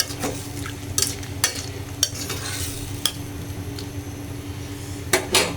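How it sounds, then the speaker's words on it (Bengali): Spiced taro and dried fish sautéed in a pan, with a low sizzle under sharp, intermittent spoon scrapes and clinks against the pan, close and moderately loud, no voices. "এভাবে ভালোভাবে কষিয়ে নেব"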